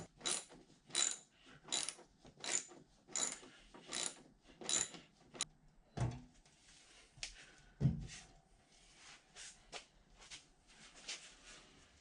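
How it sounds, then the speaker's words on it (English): A hand ratchet clicks in quick bursts, then pauses with a few clanks as bolts come off the motor housing of a 1960 South Bend lathe during teardown, close and fairly quiet with no speech. "I can go ahead and remove the other 2 bolts that hold it onto the"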